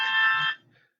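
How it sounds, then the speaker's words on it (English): A phone timer alarm sounds a loud, bright electronic tone for about half a second, then cuts off into a brief fading tail and silence. "That's my phone's timer."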